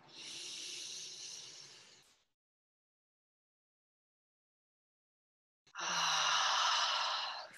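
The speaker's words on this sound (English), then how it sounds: "Nice deep inhale through the nose." A long, airy breath drawn in, then a pause of silence and a full breathy exhale, both close and soft with no talking, in a calm meditation setting.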